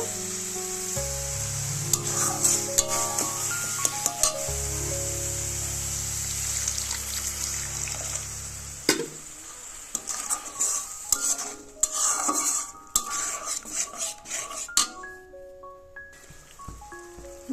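Soft tonal music plays over a steady hiss at first, then a sizzling spice masala for cabbage fritter curry takes added water and bubbles up, with loud irregular clatter of a spoon stirring against the pan close by.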